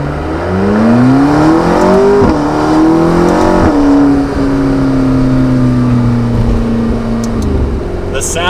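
A McLaren 650S Spider's twin-turbo engine revs up through the gears on a drive, rising in pitch in loud, close pulls with short shift breaks.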